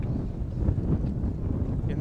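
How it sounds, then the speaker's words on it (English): Wind and choppy water slapping against a fishing boat on Cedar Lake, a steady low rumble and buffeting wind noise filling the whole stretch without a break. "In this wind with this chop."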